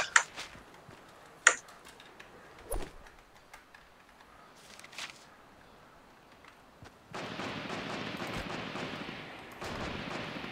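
Sharp gunshots in a Fortnite/PUBG match, a few isolated cracks spaced across several seconds over quiet game ambience, followed by a louder steady rushing noise.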